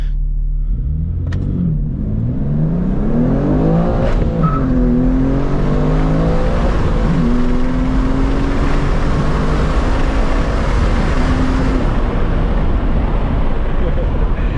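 Manual BMW M2 accelerating hard from a standing start, a loud close engine climbing in pitch through several quick gear shifts, with a person talking over the engine.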